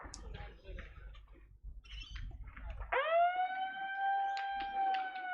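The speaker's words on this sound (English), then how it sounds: "And there's the siren." A loud wailing siren at the Australian National Championships starts abruptly partway through and holds a steady rising tone, after a stretch of crowd noise and murmuring voices.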